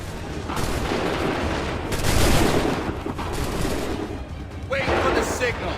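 Musket volley fire in Assassin's Creed 3 during a battlefield skirmish, a broad dense crackle of many shots swelling to a loud peak, then fading and rising again, with shouted commands and battle noise throughout.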